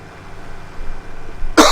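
A single loud cough from a person with a lingering cough bursts out at the very end, after quiet room background.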